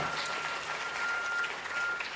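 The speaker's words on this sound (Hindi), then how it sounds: "एक बार तालियां बजाइए कैकेयी के नाम" An audience applauds at a live stage performance in Lucknow, a sustained wash of many hands clapping at once, even and moderately distant, with no voices over it.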